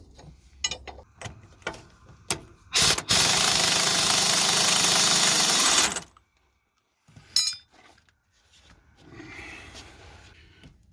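Hammer blows knock the tie rod ends off a Case 680CK backhoe's steering: a series of sharp metallic strikes, then a long, loud, harsh burst of noise, followed by a few scattered clinks and a quieter stretch.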